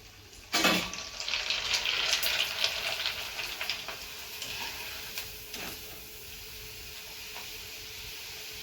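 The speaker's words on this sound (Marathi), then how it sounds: "तर आता मी दुसऱ्या पण या कुरड्या तळून घेते" Semolina kurdai (rava kurdai) drop into hot oil with a sudden loud hiss that bubbles and crackles briskly, then gradually settles to a quieter steady sizzle with occasional clicks, no speech present.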